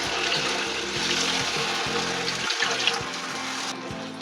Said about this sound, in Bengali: এখন আমরা জলটা দিয়ে দেবো আলুটা সিদ্ধ হওয়ার জন্য।